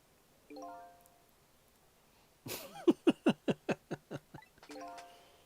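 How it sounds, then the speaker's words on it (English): A telephone rings in the video game Ghost Trick: Phantom Detective: a sharp, insistent burst of about ten rapid electronic pulses that gradually fade, bracketed by short tonal game sounds before and after. "It is a miserable state of affairs when I can even be startled by a telephone that doesn't even ring."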